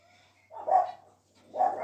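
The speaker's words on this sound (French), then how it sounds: "ça c'est des chiens qui passent" Two short dog barks pass by one after another, the first near the middle and the second at the end, moderately loud against an otherwise quiet background with no talking.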